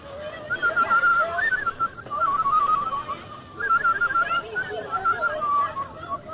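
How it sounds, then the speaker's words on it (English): A person whistles a wavering, tuneful melody in three phrases with brief pauses between them, moderately loud and close, while faint background voices murmur underneath. "I hope I can still whistle."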